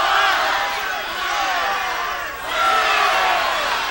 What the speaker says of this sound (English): The crowd's just practically shouting out the numbers.